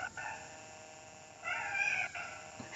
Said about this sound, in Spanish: ¿Oís al gato?